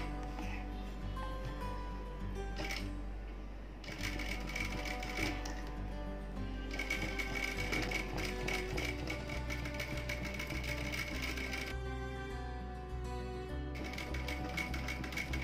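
A regular sewing machine stitching aari-style embroidery runs in steady rapid bursts, pausing briefly and restarting, close and fairly loud with a rhythmic mechanical whir and no talk.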